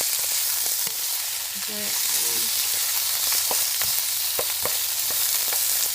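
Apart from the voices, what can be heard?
garlic sizzling in a pan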